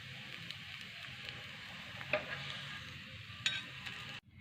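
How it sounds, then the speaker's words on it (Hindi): A chocolate cigar browns in a pan, with a soft, steady frying hiss and gentle stirring, plus a couple of faint clicks before the sound cuts off abruptly. "ये थोड़ा सा हम लोग यहाँ से भी फ्राई कर देंगे"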